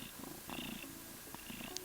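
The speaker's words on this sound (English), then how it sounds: "How you doing, kitty? He purring." A cat purrs up close, a soft rhythmic rumbling that pulses gently with each breath.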